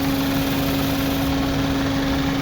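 A 2010 Honda Civic VTEC engine idles steadily with a smooth, even hum and a faint constant whine, no revving, close by and alone.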